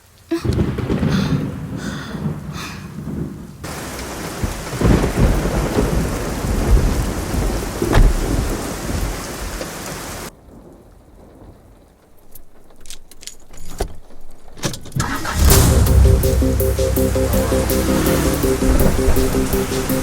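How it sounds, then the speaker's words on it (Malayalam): Steady heavy rain roars throughout with low rumbles of thunder, briefly easing in the middle before a loud downpour returns with an engine-like hum. "നന്നായിട്ട് മഴ പെയ്യുന്നുണ്ട്"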